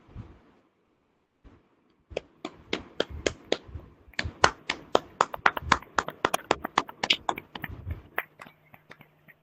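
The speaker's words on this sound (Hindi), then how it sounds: "उनके लिए एक ऊंची ताली हम सब लगाएंगे।" A congregation claps at a Saturday prayer service, starting with a few scattered claps and building into a steady, fairly close round of applause that tapers off, with no talk over it.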